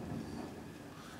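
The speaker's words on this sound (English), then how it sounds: "can you hear the thunder?" Distant thunder rolls as a low, steady rumble. It is faint and continuous, with no talk over it.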